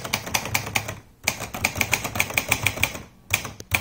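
Typing on a Kappel VA (Olympia Progress) manual typewriter, a 1940s-built machine: a steady run of sharp, close key strikes in quick rhythm, a brief pause near the middle, then more firm clacks.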